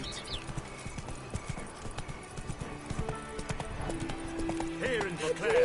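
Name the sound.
horse Roach hooves clip-clop, from video game The Witcher 3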